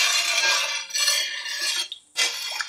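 A spoon stirring kefir-cultured feta curd made from raw farm milk in a pot, three close scraping strokes with brief pauses between them, no talk.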